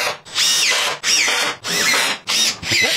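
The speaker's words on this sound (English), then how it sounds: "I'm going to drill first through both pieces with a 3/16 drill bit." Power drill with a 3/16 drill bit boring through two stacked plywood pieces on a folding workbench, five loud close bursts of whirring with brief pauses between them and no talking.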